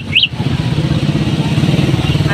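Motorcycles and tricycles drone and putter steadily as they pass close by on the Dampalit Megadike in Malabon City, Philippines, a continuous low rumble with a faint crowd murmur underneath.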